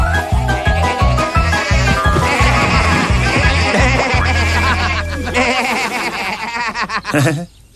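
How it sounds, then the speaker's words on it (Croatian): Sheep bleat in a farm scene from the animated series Tractor Tom, with several wavering bleats layered over a bouncy, rhythmic music track throughout. "Te šašave ovce."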